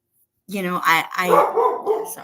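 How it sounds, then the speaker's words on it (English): Dogs bark indoors in a burst of several quick, fairly loud barks close by, then softer yips and vocal noises continue. "the dog's now are barking"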